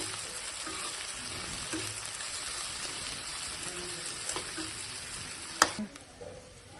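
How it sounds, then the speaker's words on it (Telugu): Dried shrimp fry quietly in a pan, a soft, steady sizzle running throughout, broken near the end by a sharp utensil clink against the pan. "ఇప్పుడు ఈ ఫ్రై అవ్వాలండి దీంట్లో కొంచెం ఫ్రై చేసుకోవాలి ఇది రొయ్యలు వేగినాక కొద్దిగా ఫ్రై చేసుకోవాలి"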